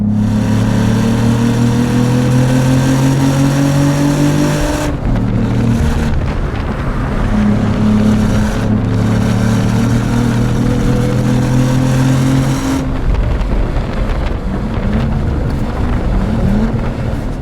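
A loud 2022 Cadillac CT4-V Blackwing engine revs and accelerates through gears, pitch climbing, dropping at each shift, then rising again, with steady road and wind roar.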